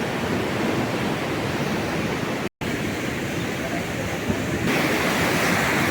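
Water rushes steadily at a waterfall by a canal bridge, a loud, continuous broadband roar that fills the whole stretch without pause apart from one brief dropout.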